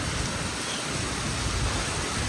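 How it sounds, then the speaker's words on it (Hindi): Heavy monsoon rain pouring down in Bombay, a dense, unbroken hiss of downpour at close range, loud and steady with no voices over it. "इतनी तेज़ बारिश हो रही है, इतनी तेज़ बारिश हो रही है।"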